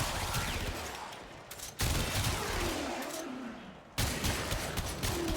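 A Kuva Hind rifle fires on full automatic in the Warframe video game. Two rapid, loud bursts of continuous gunfire are split by a brief lull, then firing resumes abruptly and runs to the end, with no talking.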